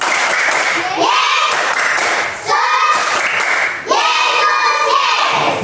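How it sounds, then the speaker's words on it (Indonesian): Children in a classroom clap along in a rhythmic clapping chant, sharp hand claps in short patterned bursts mixed with their chanting voices, close and fairly loud. "Sekali lagi tepuk Yesus"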